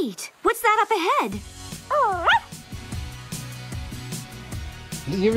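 A cartoon puppy in a Barbie sisters puppy-rescue video game yips and whimpers in a few short, rising high-pitched cries near the start and again midway, over a soft game soundtrack with a voice talking.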